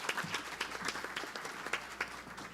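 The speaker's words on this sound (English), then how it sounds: "Go for a round of applause for our panelists." Forum audience claps for panelists at a Korea–Latin America trade and innovation event, a moderate patter of individual hand claps that is fairly close and uneven, with no talk over it.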